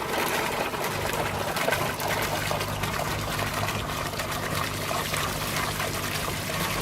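Water from a leaking hose pipe sprays steadily over an aquaponics sieve filter, a continuous close hiss and splatter that never lets up.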